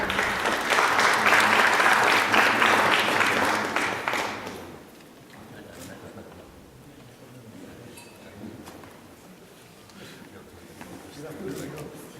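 Audience applause at a Polish exporters' congress award ceremony in 2013, loud and dense for about four seconds, then giving way to a quieter hall murmur.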